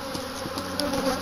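Honeybees around an opened hive during a spring brood check, a close, constant, dense buzz with a few louder passes near the listener.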